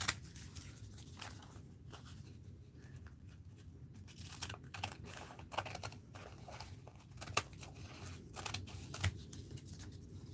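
Scissors cutting through paper or fabric scraps for a crafting board, with soft crinkling and repeated snips in an irregular rhythm, close and fairly quiet, with no talking.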